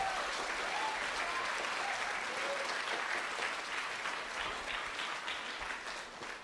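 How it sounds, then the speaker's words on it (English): A school audience applauds during an event linking sixth graders with an astronaut: a dense, continuous wash of clapping that holds steady throughout and tapers slightly toward the end. "So a big round of applause for Steve, Roger, Paul, Brian, and their crew."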